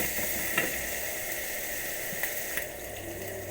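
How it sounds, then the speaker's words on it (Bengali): Chicken with poppy seeds and coconut sizzles and hisses steadily in a hot pan while being stirred, the frying noise close and continuous with faint scraping clicks. "আবারও নাড়ব"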